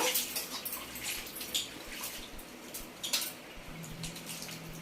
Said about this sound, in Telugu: కొంచెం ఎసరు పోసుకోండి. కొంచెం వేస్తున్నా నేను